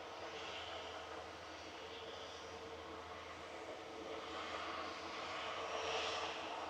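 Jet airliner departing Manchester Airport, a steady broad engine roar heard from a distance that swells slightly toward the end.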